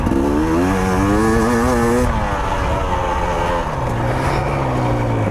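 A GasGas dirt bike engine revs hard and close on loose ground, a continuous loud buzzing drone that climbs in pitch, drops, and steadies, with no talk.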